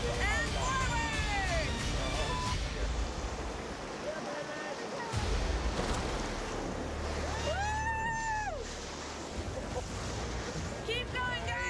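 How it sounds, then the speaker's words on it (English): River rapids roar near a raft in a steady, loud rush of churning water and wind, with people shouting and calling out over the noise. "you can really feel the river's power through the sound and the motion of the raft"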